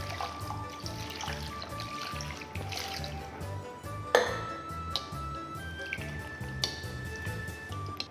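Pig stomach and soup bones are washed in water, with splashing, dripping and trickling as the pieces are handled, plus occasional knocks and squishy sounds, close and steady throughout.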